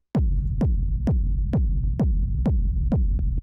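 A lo-fi techno kick drum with a deep rumble tail and no EQ boost thumps eight times at a steady four-on-the-floor pulse, each punchy hit trailing into low, sustained boom, heard alone.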